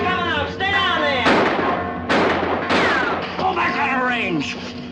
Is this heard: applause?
no